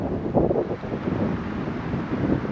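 Gusty, cold mountain wind buffeting the microphone on a pine hill near Dalat, Vietnam, a low rumbling roar that swells and eases without any voices.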